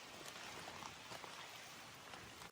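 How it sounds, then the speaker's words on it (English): A slow, light rain falls outdoors in a steady, dense patter, heard faint and unbroken with no voices. "even with all this rain, we don't have any really pooling anywhere because it's just falling so slow"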